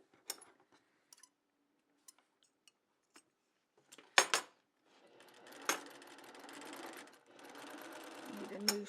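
A home sewing machine stitches half-square triangle quilt pieces, starting with a few soft ticks and clicks, then running in a steady whirring burst after a sharp clack, pausing briefly and running again, quiet and close.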